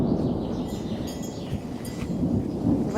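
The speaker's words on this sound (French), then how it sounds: "je ne sais pas si vous entendez mais il y a de l'orage" A thunderstorm rolls outside with a continuous low rumble of thunder and steady rain hiss, heard from indoors at moderate distance, with faint bird calls over the top.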